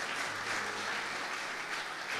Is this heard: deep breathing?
no